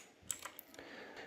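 Soft clicks of computer keyboard keys pressed a few times during work in Photoshop, quiet and close, with irregular spacing over faint background noise.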